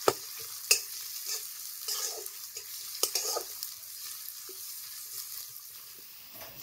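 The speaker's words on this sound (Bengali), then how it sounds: "পেঁয়াজটাকেও ভালো মতো ভেজে নেব" Chopped onions fry with garlic in a pan, a faint continuous sizzle broken by sharp spatula knocks and stirring scrapes.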